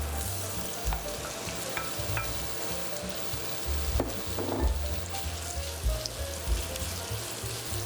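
Beef and garlic frying in oil in a hot wok over high heat, a dense continuous sizzle with occasional stirring scrapes and clicks, close and steady.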